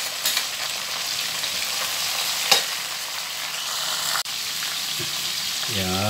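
Tomatoes sauté in a hot pan with a steady, close sizzle and frying crackle, a few sharp utensil clacks against the pan, and a brief bit of voice near the end.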